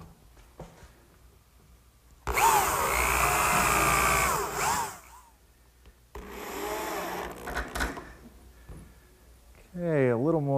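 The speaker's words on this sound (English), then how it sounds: "Just a few screws aligning it with my layout marks." Power drill driving screws into wood in a workshop: two sustained whirring bursts of a few seconds each, close and loud, with speech before and after.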